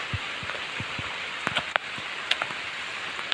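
Heavy monsoon rain in the Konkan countryside pours down in a steady hiss around a tree where someone shelters, with scattered heavier drops tapping nearby and no voices.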